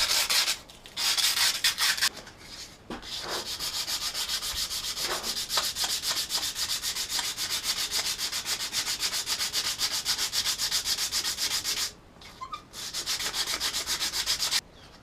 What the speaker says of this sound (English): Some 120 grit sandpaper.